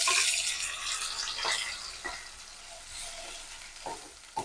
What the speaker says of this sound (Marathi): इथे घालणार आहे ते कढीपत्ता, तेजपत्ता आणि जो आपण मसाला वाटून ठेवला होता तो मसाला घालून घेते.